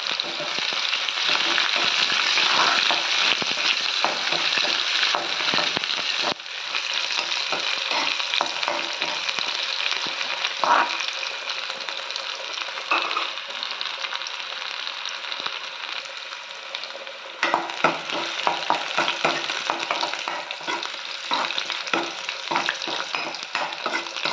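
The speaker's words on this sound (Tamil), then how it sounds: "நல்லா வதக்கி விட்டுக்கலாம்." Shallots, curry leaves and dried chilies sauté in hot oil in a pan for pudalangai kootu, giving a loud, continuous close sizzle with repeated stirring scrapes throughout and no voices.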